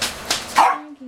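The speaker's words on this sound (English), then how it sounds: "Got a nice little bark, doesn't he?" A small dog gives a short couple of barks and yips, close and moderately loud, alone with no talk.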